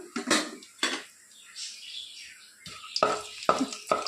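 Whole garam masala spices hitting hot oil in a pan, with sharp sizzling bursts and clinking as the spices are tossed in, a few crackling spurts spaced across the moment, close and fairly loud.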